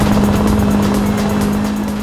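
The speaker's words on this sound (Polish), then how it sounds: "włączył turbo, ależ grzeje" A race car in Need for Speed Rivals roars with a loud, steady engine drone under turbo boost. The whine holds constant without a break, alone and close.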